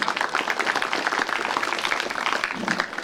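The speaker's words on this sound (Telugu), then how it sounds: "మనం చప్పట్లు కొట్టాల్సిన అవసరం ఉంది" A crowd at the closing ceremony of the CM Cup sports meet in Armoor claps steadily, a dense ongoing patter of many hands close by.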